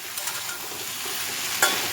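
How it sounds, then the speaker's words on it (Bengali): Salted potatoes being stirred and fried in a pan, a close steady sizzle with soft scraping strokes and one sharp clink of a utensil. "এটাকে আরেকটু নাড়াচাড়া করে ভাজা ভাজা করে নিতে হবে"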